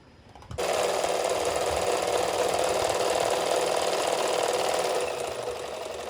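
A sewing machine starts up and runs in a steady, fast mechanical whir, stitching fabric pieces of a potli bag, close and continuous with no talking.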